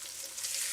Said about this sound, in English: When you first start frying these